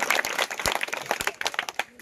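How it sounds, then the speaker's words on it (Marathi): An audience claps for a contestant at an antakshari singing competition. The applause is scattered and brief, with sharp individual claps close by that thin out toward the end. "सर्वांनी सोहमचं टाळ्या वाजवून स्वागत करा"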